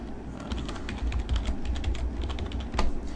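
Rapid keystrokes on a computer keyboard while a PHP comment is typed, an irregular stream of clicks over low background hum, with a sharper, louder key strike near the end and no voices.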